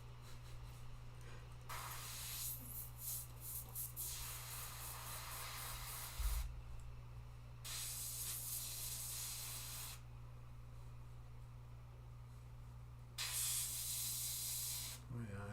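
An airbrush spraying paint onto a metal panel hisses in several bursts of a few seconds each, close and steady, separated by quieter gaps over a low hum.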